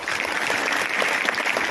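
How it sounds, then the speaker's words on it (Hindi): A dense, continuous burst of audience applause fills a hall during a motivational talk, loud and close. "पहले तो एक बार ताली बजा सकते हो आप"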